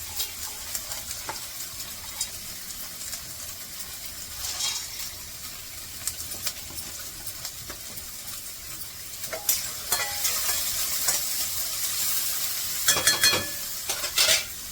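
Chillies and cumin sizzle in hot oil in a pan, with intermittent scraping and stirring clatters that grow busier toward the end.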